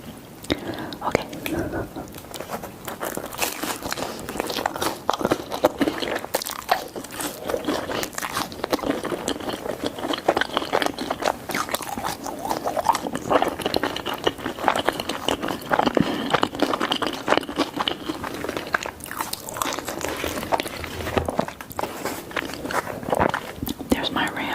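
Close, continuous chewing and biting on pizza topped with jalapeno, green onions and cheese, with soft wet mouth sounds and quiet whispering throughout.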